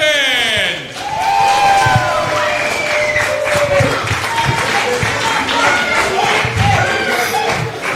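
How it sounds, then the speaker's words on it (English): Wrestling crowd applauding for wrestler Rick Blade at an independent show, loud sustained clapping and cheering from a large audience close by, with whistles above the noise. "Clap it up one more time for Rick Blade"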